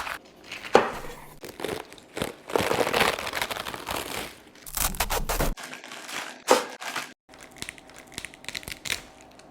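Crisp, crunchy cutting of cabbage, with bursts of crackling and crunching as a knife chops through leaves, close up and irregular.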